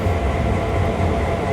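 A Norfolk Southern SD40 diesel locomotive hauling hoppers in Train Sim World 4, a steady low engine drone with rolling rail rumble, loud and constant throughout with no talking.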